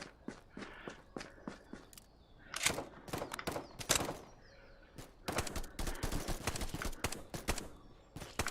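Gunfire in a VR shooter game played on an HTC Cosmos Elite headset: scattered single shots, then dense rapid bursts, mixed with footstep-like thuds, fairly loud and close.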